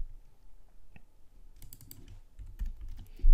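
Typing on a computer keyboard, with light, scattered key clicks at first that grow into quicker, louder runs of taps toward the end.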